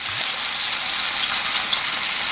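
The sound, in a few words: garlic frying, soy sauce added to the pan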